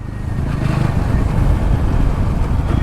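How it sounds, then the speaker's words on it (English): Engine and exhaust note of a TVS Apache RTR 200 motorcycle on a city ride, a steady low rumble with wind noise, continuous and close. "The exhaust on the RTR 200 never gets tiring."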